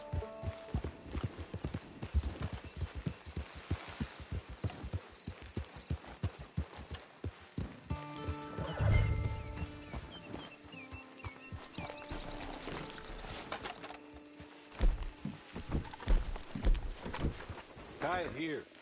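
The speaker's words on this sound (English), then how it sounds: "It's your horse." A horse clip-clops along at a steady walking pace close by, hooves ringing in an even rhythm, with a whinny breaking in partway through as people talk nearby.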